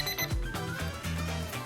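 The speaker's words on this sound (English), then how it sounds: "we've got the alarm going off" A short electronic timer alarm ringing with a repeating tonal pattern during a crystal-growing experiment, fairly close and steady, no talking.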